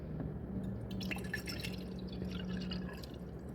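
Water poured in to make coffee trickles and drips quietly and steadily in a small, close stream, with no voices over it.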